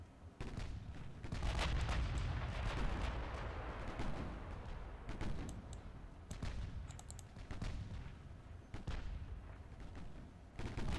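Warship guns fire in Ultimate Admiral Dreadnoughts during a naval battle against heavy cruisers, a continuous barrage of distant booming salvos and cracking shots layered over a rumbling background, with repeated sharp reports throughout.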